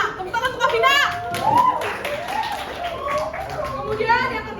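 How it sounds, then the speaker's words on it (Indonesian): Classroom applause for a student in a sociology lesson, scattered claps from pupils mixed with children's voices and a whistling, sliding tone rising and falling over them. "Tepuk tangan untuk Afina."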